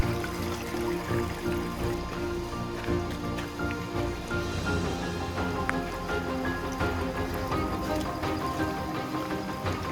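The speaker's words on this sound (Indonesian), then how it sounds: "kita mulai diguyur hujan" Steady rain falls during a hike on Mount Binaiya, a dense continuous patter of drops hitting surfaces and foliage that stays constant and fairly loud throughout, with no voices.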